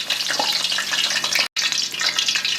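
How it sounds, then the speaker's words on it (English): Potatoes for British chips fry in hot oil with a steady, dense sizzle and crackle, close and even throughout, with one very brief break partway before the bubbling carries on. "you can see it's already frying nicely"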